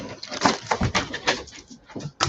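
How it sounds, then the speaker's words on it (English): Dogs barking and whimpering in a home hangout, a series of short uneven yelps and barks close by with people chatting around them. "Goddamn dogs"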